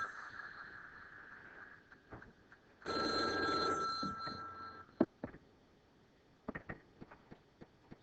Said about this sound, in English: Sorry about that, I had to get the phone.